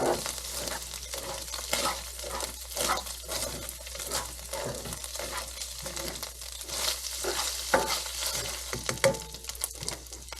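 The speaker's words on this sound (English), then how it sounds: "now we'll mix this in with the ground beef" Ground wagyu beef and shredded cabbage being stirred in a frying pan, a continuous sizzle broken by rhythmic scraping and tossing strokes from a spatula, close and fairly loud, with no voices.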